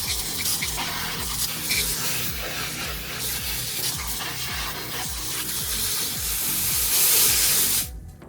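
Water sprays steadily onto the Raxiom taillights of a Ford Mustang GT S550 during washing, a continuous close hiss that swells slightly near the end before cutting off abruptly.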